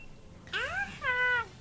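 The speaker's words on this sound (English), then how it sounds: "Ooh, a kitty." A cat meows twice in a Pokemon Sword game, each call a rising then falling tonal cry, the second longer and steadier, both clear and alone over soft background noise.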